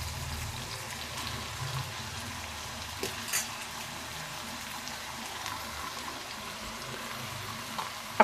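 Snake gourd with potato and poppy seed fries gently in a pan, a faint rain-like patter and low sizzle with a couple of soft stirring knocks, quiet throughout and without speech.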